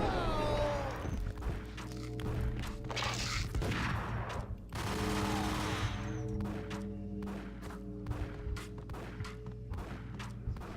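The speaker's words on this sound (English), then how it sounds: "Not even sure who's shooting me." Gunfire in Max Payne cracks out in rapid volleys, loud and close, with dense bursts near the start and sharp separate shots through the later seconds over a low rumbling bed.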